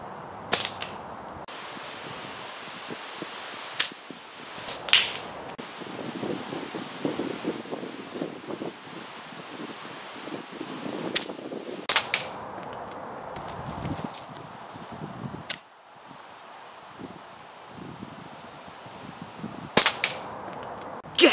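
A gamekeeper PPMG catapult fires at small 24mm chalk targets outdoors. Sharp snapping shots and cracking impacts ring out at irregular intervals over a steady breezy background.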